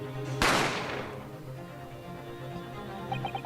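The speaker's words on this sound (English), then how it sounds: "You heard the gunshot, you mean?" A single sharp gunshot sound effect from The Great Ace Attorney, a loud close crack with a quick decaying tail that fades over a quiet musical backdrop.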